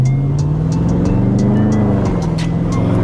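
A Dodge Scat car's engine drones loudly and close as the gas is pressed, holding a steady, deep rumble with a slight rise in pitch over a few seconds.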